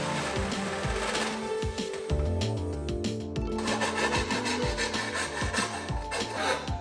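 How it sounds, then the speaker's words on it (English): Hand deburring of notched steel roll cage tubes for a Volvo 240 race car, a rhythmic rasping scrape in repeated strokes, close and fairly quiet, with no talk. "Here I also deburr the tubes after notching, since the hole saws leave some really nasty sharp burrs."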